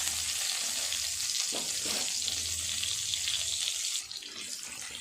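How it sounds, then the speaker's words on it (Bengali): Potatoes frying in oil in a pan after shrimp were fried, a steady close sizzle and hiss that runs throughout and drops slightly near the end, with a few soft stirring scrapes and no talk. "আলুগুলো ভাজা করে নেব।"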